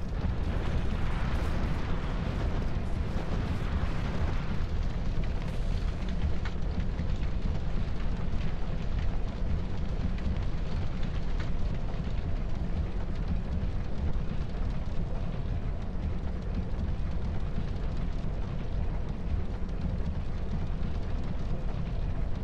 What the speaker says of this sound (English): And then light the windmill on fire.